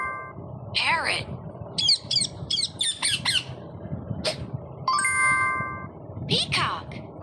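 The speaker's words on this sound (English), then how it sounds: "Parrot." A parrot squawks repeatedly in loud, harsh bursts with a few sustained chiming tones in between, the calls close and clear over a faint low background.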